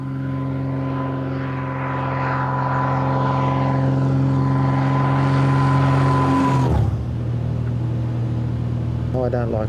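A light propeller aeroplane drones loudly and steadily, its engine pitch dropping as it passes close by, with a person talking over it.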